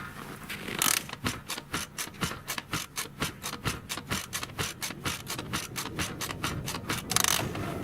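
A Dnepr sidecar motorcycle is cranked in the cold winter air: a quiet series of rapid, evenly spaced mechanical clicks and scrapes repeats steadily for several seconds without the engine catching.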